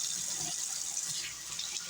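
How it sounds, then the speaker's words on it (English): Vegetables washed under a running kitchen tap in a sink, a soft, continuous splash of water close by. "I'll wash my other vegetables here."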